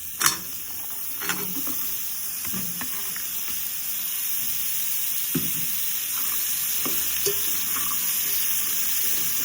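Sweet pumpkin frying in a pan, a steady bright sizzle with occasional sharp clinks and scrapes from stirring, close and without speech.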